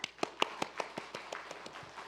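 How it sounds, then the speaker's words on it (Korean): A church congregation claps during a Wednesday worship service, a loose run of about a dozen sharp, separate hand claps over two seconds that thin out and fade toward the end, moderately distant. "박수 한번 하겠습니다"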